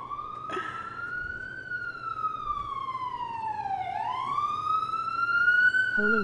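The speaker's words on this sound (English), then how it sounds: "Wow, that's really loud sirens." Police siren wailing outdoors, rising and falling in pitch as it sweeps past, loud and steady over about six seconds with faint background noise.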